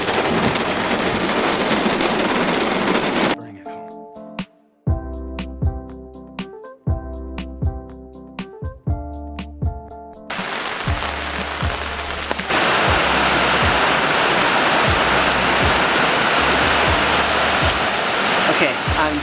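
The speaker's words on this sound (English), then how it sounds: "it's raining really heavy right now" Heavy rain pours down outside, a loud, dense hiss that drops away for several seconds while tonal, musical sounds play, then returns at full strength and continues steadily to the end.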